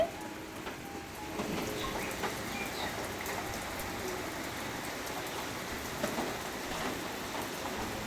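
Steady rain pattering on a surface, a continuous dense patter with scattered louder drops, no voices.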